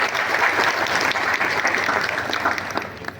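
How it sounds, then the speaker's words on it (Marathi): Applause at a gathering of a devotional service association honouring its board of directors: a crowd clapping steadily and fairly close, an even patter that fades slightly toward the close. "टाळ्या वाजवायच्या."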